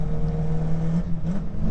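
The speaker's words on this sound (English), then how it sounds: "So when we cross the start-finish line, we'll be on the gas." A Holden Commodore VK V8 race car at Bathurst accelerates onto the gas across the start-finish line, its engine a steady, loud droning hum with a slight rise in pitch, heard close up from inside the car.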